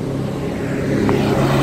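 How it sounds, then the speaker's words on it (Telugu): A drone flying outdoors near the Ellora caves, a steady, loud propeller drone with a tonal hum that holds even and close for the whole moment. "ఇక్కడ డ్రోన్ ఎగరేస్తున్నాం"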